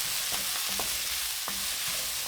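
Meatball stuffing with black fungus, fish sauce and oyster sauce being stirred in a pan: steady sizzling with a handful of spaced spatula scrapes and clicks against the pan, close and fairly quiet.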